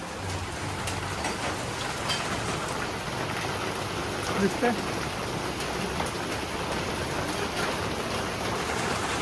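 Steady rain falls outside a home during the monsoon, a dense continuous hiss of drops on surfaces that stays even throughout, with a faint distant rumble at times.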